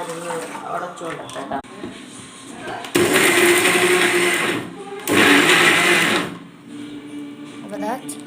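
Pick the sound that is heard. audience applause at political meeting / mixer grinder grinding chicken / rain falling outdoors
mixer grinder grinding chicken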